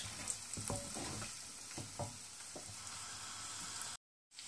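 Egg bhurji (anda bhurji) sizzles steadily in a pan while a spatula stirs and scrapes through the big pieces of scrambled egg, with soft repeated clinks over the frying, followed by a brief silence at the end.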